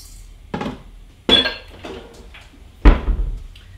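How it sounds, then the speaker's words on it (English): A kitchen cabinet opened to fetch a proofing basket: several sharp wooden knocks and clacks close by, spaced apart, with light rattling and shuffling between them in a quiet room. "I have a proofing basket that I will get out of my cabinet here"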